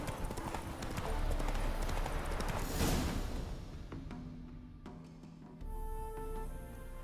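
In a video game horse race, hooves clip-clop in a quick, steady rhythm, close and clear, joined by game music and effects that shift partway through.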